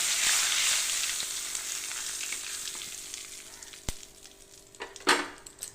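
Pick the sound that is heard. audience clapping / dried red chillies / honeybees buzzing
dried red chillies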